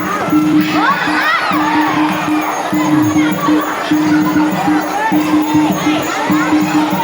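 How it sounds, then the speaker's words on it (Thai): Crowd at a Muay Thai match at a travelling boxing event in Na Kae cheers and shouts steadily throughout, with a droning ringside tone underneath. "แฟนมวยเชียร์เยอะถ้าต่อยดีๆมีโอกาสดัง"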